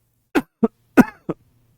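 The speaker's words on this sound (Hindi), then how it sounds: "भगवान कसम अंदर तक खांसी आई है" Four deep, chesty coughs from a man in a quiet room, bursting out in an uneven series with the third one loudest and rough, each hack short and separated by brief silences.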